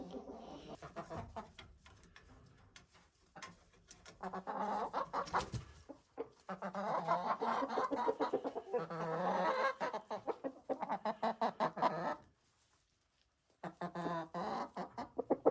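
Several backyard hens cluck and murmur around a new wooden coop, a busy run of rhythmic clucks and soft calls at close range, with one brief quiet gap near the end.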